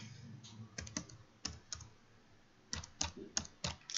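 Typing on a computer keyboard while working in Excel, heard as scattered clusters of crisp key clicks with pauses between bursts, close and fairly quiet, with no voice.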